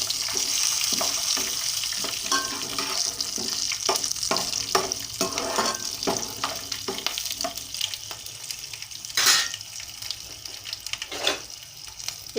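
Cashew pieces fry in a pan for fried rice, giving a steady close sizzle with scattered clinks and scraping stirs and one brief hissing flare, with no talk.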